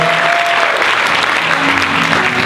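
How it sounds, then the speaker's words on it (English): Church congregation applauds the worship band after their set, a loud, even wash of many hands clapping with no talk, while a few faint sustained tones linger underneath. "Why don't you guys give them another round of applause?"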